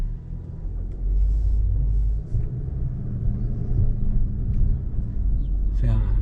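Interior of a car being driven on the road, a low steady rumble of engine and tyres with small bumps and shifts in level, and a person speaking briefly near the end.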